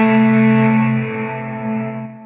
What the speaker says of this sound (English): Then we have our reverbs with all of these different impulse responsives